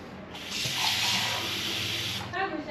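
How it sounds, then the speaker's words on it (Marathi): Water runs steadily from a tap into a bottle at an indoor sink, a close continuous hiss and splash lasting about two seconds before cutting off, with light handling noise after. "पाणी भरू याच्यात पहिलं."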